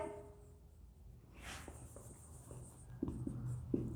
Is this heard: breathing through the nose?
no